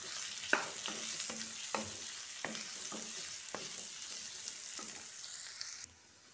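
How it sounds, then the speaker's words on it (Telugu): Spices are stirred into a potato and capsicum curry in a pan, with a soft steady sizzle under repeated scraping strokes of a spoon, close up, ending abruptly. "వేసి బాగా కలుపుకోవాలి"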